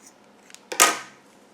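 Scissors trim a loose yarn end on a crocheted gingerbread potholder: a couple of faint clicks, then one sharp close snip that fades quickly.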